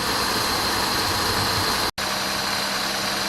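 An Oldsmobile van's engine idles steadily and fairly quietly, a constant hum that cuts out for an instant partway through before resuming.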